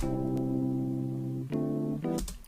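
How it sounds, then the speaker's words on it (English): Sustained electric piano chords from a software instrument ring out steadily, shifting to a new chord twice near the end, with no voices present. "We change your mind, we change it to electric piano,"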